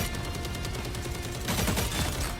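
Rapid automatic gunfire in Marvel Rivals as the Punisher switches from his shotgun to his automatic weapon, with dense, continuous shots that grow heavier toward the end.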